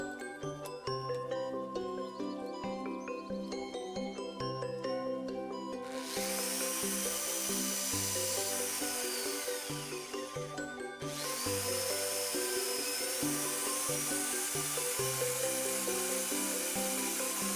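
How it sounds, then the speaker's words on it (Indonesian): An electric drill bores into the body of a wooden wayang golek puppet, whirring in sustained bursts over a bed of gamelan-like background music. "ini pakai bor aja biar kerjanya ringan."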